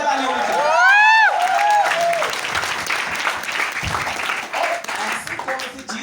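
Audience applause and cheering at a corporate event in Lucknow, a dense sustained clapping wash with crowd noise, opening under a loud rising whistle or whoop, then steady broadband clapping that fades slightly toward the end.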